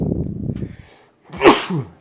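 One sharp, loud sneeze bursts out close by after a stretch of conversation in a quiet room, followed by a short vocal tail.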